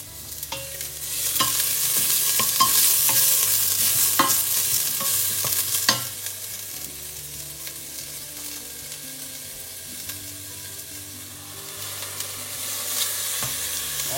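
Garlic frying in a pan as the base for beer-steamed mussels gives a steady, close sizzle, with occasional stirring clicks, and settles slightly softer midway.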